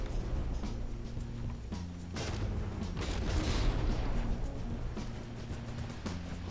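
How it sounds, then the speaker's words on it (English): A warship's small guns firing in From the Depths, a loud rumbling barrage of repeated booms over a steady low engine drone, with several sharp shot onsets spaced through the moment. "these small guns, they just shoot at anything if there is no air targets left"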